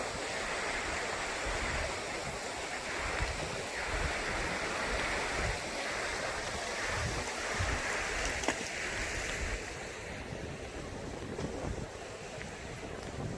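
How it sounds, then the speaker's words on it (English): A small creek burbles and rushes steadily nearby in Alaska, continuous flowing water with some wind buffeting, no talking. "Little creek."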